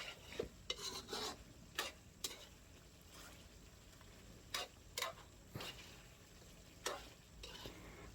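Chicken curry in a thickening coconut milk sauce gets stirred in a pan with potato and malunggay, a soft bubbling sizzle under repeated scraping strokes of a spoon, close and quiet with no talking.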